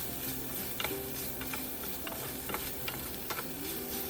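Meat for Bicol Express is stirred in a pan, a faint scraping and sizzling with scattered light clicks of the utensil against the pan over a steady hiss, no talk.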